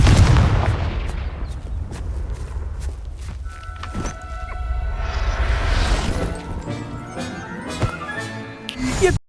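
Hogwarts Legacy Confringo blasting spell going off: a loud explosive impact at the start, then crackling debris and sharp hits scattered through a busy game soundscape, with a final burst near the end.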